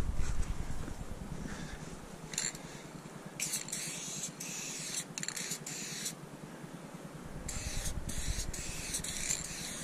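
Aerosol spray cans of chrome paint hiss in repeated bursts, some long and some short, loud and close, with brief pauses between sprays.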